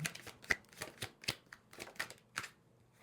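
A deck of tarot cards is shuffled by hand in a close series of quick riffling bursts, roughly every half second, with no talking.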